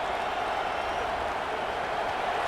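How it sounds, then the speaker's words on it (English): Stadium crowd at a college football video game, Notre Dame visiting Georgia, as a steady, dense roar of cheering and noise that holds evenly throughout with no clear breaks. "this crowd is fired up. Listen to this noise here"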